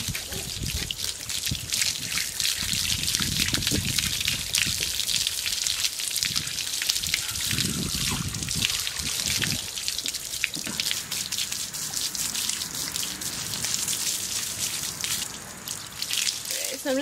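Water running from a hose over a horse's legs to treat a wound in a barn, a close continuous splashing and trickling stream with dripping that continues steadily throughout.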